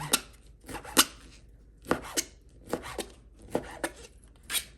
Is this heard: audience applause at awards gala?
no